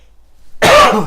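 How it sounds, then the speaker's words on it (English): After a moment of near silence, a single harsh throat-clearing cough erupts close by, loud and raspy, lasting about half a second. "Excuse me, sorry about that cough."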